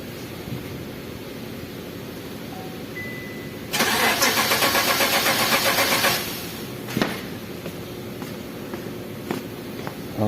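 A car engine cranks without catching, its starter grinding rhythmically for about two and a half seconds, loud and close, then falling silent in a quiet workshop setting with a few small clicks afterward.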